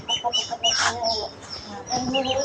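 Hens cluck in a short run of near, uneven calls in a farmyard flock, with other birds calling faintly in the background.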